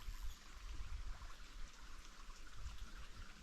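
A creek runs slowly after heavy rain, making a soft, continuous trickle and burble of water, faint and even throughout with no voices.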